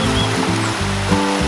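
The Garganta de Santa Lucía stream rushes loud and close, a continuous gurgling wash of flowing water with a low rhythmic churning beneath it.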